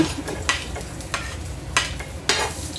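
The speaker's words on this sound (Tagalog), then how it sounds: "maggigisa na tayo ng bawang" Garlic sautéing in a pan, a steady sizzle punctuated by four or five scraping stirs at uneven intervals, close and fairly loud, no voices.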